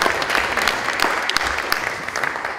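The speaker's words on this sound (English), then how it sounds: "Let's give an applause to Anjan" Audience applause at an organic farming gathering held inside a fragrant building, a steady dense wash of many hands clapping that holds evenly through the whole stretch, with no voices standing out.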